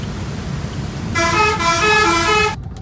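Car and bus horns honk in a long, loud blare on a congested road during a traffic jam, several tones overlapping for about a second and a half over low traffic rumble.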